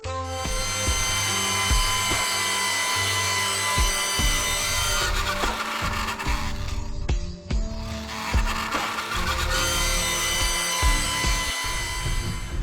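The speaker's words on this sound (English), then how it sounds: "Each ridge carved by hand, every curve brought to life with my trimmer's steady edge." A handheld trimmer carves a wooden dinosaur, a continuous close grinding and buzzing against the wood with brief dips and surges as the cut shifts, loud throughout.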